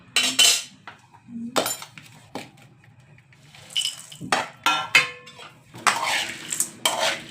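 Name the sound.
mixing bhel chivda with a spoon in a bowl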